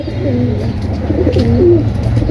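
A pigeon coos nearby in soft, rolling phrases that repeat over a low, steady background hum.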